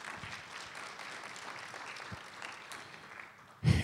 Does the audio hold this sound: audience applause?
yes